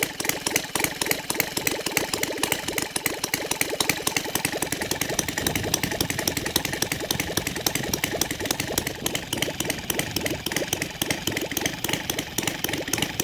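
A Saito 450 model engine converted to gasoline with CH Ignitions runs steadily at low RPM, a continuous rapid chugging drone, loud and close, with no talking.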